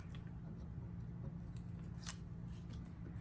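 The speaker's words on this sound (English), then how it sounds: "I'm back using the scissors because I can't peel off the double-sided tape with my nails" Scissors snip through double-sided tape at a scrapbooking table, a few quiet, crisp cuts over a steady low background hum.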